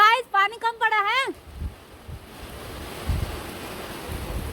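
Heavy rain falling in Delhi makes a steady, dense wash of noise that continues after a brief voice at the start, with occasional low gusts underneath.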